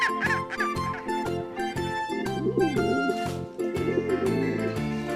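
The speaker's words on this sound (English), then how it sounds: "Penguin." A penguin's honking, braying calls come in short repeated bursts over a steady layer of background music.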